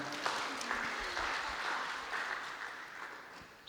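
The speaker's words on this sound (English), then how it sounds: "Can we give Ollie a little clap?" A church congregation gives a gentle round of clapping for a baby at a Sunday service, a soft, even patter of many hands that stays steady and fairly quiet throughout, with no voices over it.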